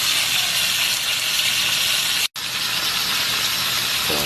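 Steady, loud sizzling hiss of lapu-lapu (grouper) fish frying in hot oil, continuous with one brief dropout midway.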